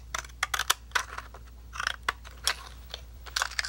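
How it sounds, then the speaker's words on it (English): Decal scissors trimming the edge of a photo print make a series of close, crisp snips and paper crunches, irregular short cuts in small clusters against a quiet background. "So just with decal scissors, just simply trim the edge"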